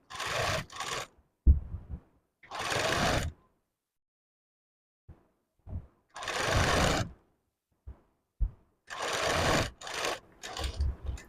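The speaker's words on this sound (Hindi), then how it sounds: "पूरे गले पर आपको देखो इसी तरीके से थोड़ा थोड़ा मार्जिन रखते हुए पट्टी पर सिलाई लगानी है" Sewing machine stitching a piping strip around a blouse neckline, running in several short bursts of steady whirring separated by pauses and small clicks, close and fairly loud.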